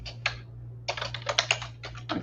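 Someone types on a computer keyboard in short clusters of quick clicks separated by brief pauses, over a steady low hum.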